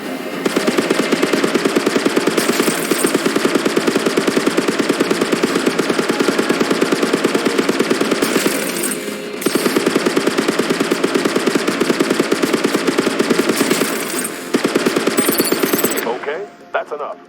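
A starfighter firing its guns in the space game Phantom Galaxies: long, loud, steady machine-gun-like streams of rapid shots, broken by a few brief pauses, over a background hum.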